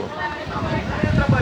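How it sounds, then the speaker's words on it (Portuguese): Strong wind gusts roar across an outdoor street market on a Thursday, a broad rushing buffeting that swells louder toward the end, with someone talking over it. "Olha o barulho que tá fazendo o vento lá no céu"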